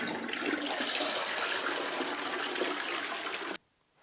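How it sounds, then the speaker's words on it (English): A toilet flushes through a Fluidmaster dual flush valve worked by a push button on the cistern, giving a loud, steady rushing gush of water for about three and a half seconds before stopping abruptly into near silence. "this large half gives you the full flush"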